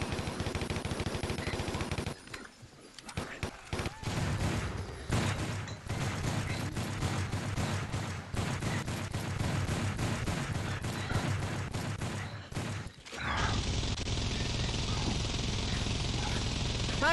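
Continuous rapid gunfire while shooting zombies in a VR game, loud and dense for most of the stretch before shifting to a steadier noise near the end.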